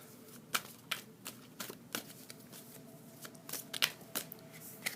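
Tarot cards shuffled by hand, with quiet close riffles and soft irregular flicks and taps spread over a few seconds, without any talking.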